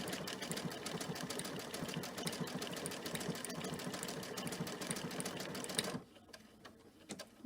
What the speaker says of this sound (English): Take the sticker out and then continue sewing.